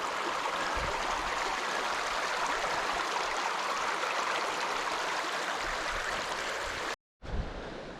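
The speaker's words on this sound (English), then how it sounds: "There's the beautiful Black Brook heading down." Black Brook, a stream in the Somerset Wilderness, flows and rushes steadily at close range as a constant broadband wash, with a momentary break near the end and no talk.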